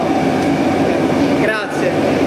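Metro train running through a tunnel on the Rome underground, a loud continuous rumble and rattle of wheels on rails with a brief squeal of metal near the end.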